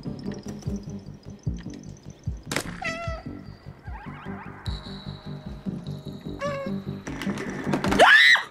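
A cartoonish cat in a video game meows several times over a thumping, rhythmic game soundtrack, the meows rising and falling in pitch, with a louder, harsher cry near the end.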